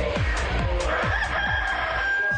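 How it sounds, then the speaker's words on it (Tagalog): A rooster crows loudly nearby over steady low rumbling background noise, with repeated clucking-like bursts throughout. "Ayun, may manok"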